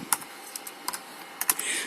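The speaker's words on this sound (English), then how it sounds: "I'm not good at typing one-handed." Someone types slowly and unevenly with one hand on the keyboard of a Fujitsu Stylistic 2300, producing sparse, crisp clicks in a quiet room.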